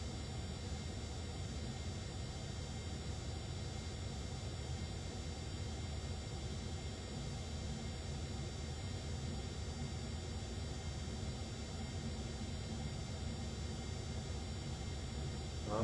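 Steady cabin-level roar of a Cessna Citation X business jet taxiing on the ground, a continuous broadband engine hum with low rumble and a faint high whine holding even throughout, no talking.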